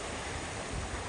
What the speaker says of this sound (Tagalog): Mahangin, malakas ang hangin kaya